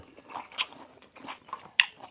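Crunchy bites into stir-fried squid with onion dipped in seafood sauce, two sharp crisp crunches about a second apart with soft chewing between, close and quiet.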